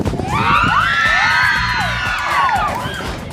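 Loud, high-pitched shouting and whooping from a crowd of students at a school parents' meeting, several voices rising and falling together in excited cries over a noisy hall.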